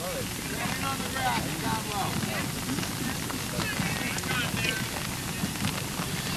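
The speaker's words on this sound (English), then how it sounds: "Seems like the rain's lightening up a little bit here." Steady rain patters down over a Little League baseball game, a constant wash of drops with some wind buffeting the microphone, while an announcer's voice talks over it throughout.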